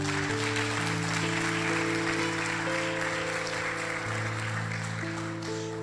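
A congregation at a men's church congress gives strong, sustained applause, with continuous clapping over sustained organ-like chords.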